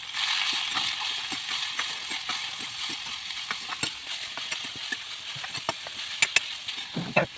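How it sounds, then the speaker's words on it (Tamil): Onions and ginger sautéing in hot oil in a village kitchen give a steady, close crackling sizzle, with scattered sharp pops and stirring clicks and no talk over it. "வெங்காயத்தை நல்லா வதக்கி போடலாம்."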